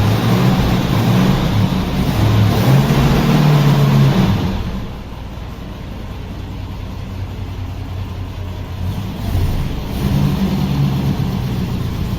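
A vintage 1939 Ford 810 car engine revs loudly up close, settles to a lower idle midway, then swells again in a second rev toward the end.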